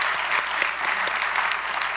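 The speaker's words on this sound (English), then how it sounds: "So another quick round of applause to the staff." Audience applause for the staff at a CAA convocation and awards presentation, a dense, steady wash of many hands clapping throughout, fairly close and full, with no voices over it.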